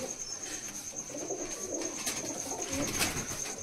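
A Malwai pigeon coos softly and repeatedly at close range, its low murmuring calls steady over a faint background whine, with no one speaking.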